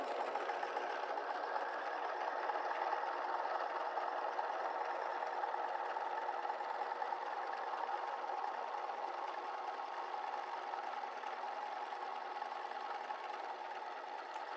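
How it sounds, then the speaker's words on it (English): A sewing machine stitches down the folded edge of a vinyl strap, a steady muffled mechanical whir running continuously and evenly throughout, fairly quiet, with no talking. "I'm just going to flip it and sew down this folded edge so that there's a balanced look here."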